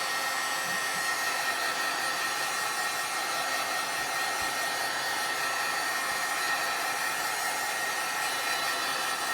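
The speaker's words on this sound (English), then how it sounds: "So I like to start with drying it a little bit" A hair dryer blows steadily and loudly on alcohol ink on a rubber stamp, a constant whooshing hum with no pauses and no voices.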